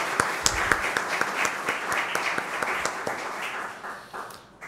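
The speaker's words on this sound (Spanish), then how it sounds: "Vamos a darles un aplauso porque están en misa." A church congregation at a Catholic Mass claps for two doctors, a moderately close round of applause with individual sharp claps standing out before it tapers off near the end.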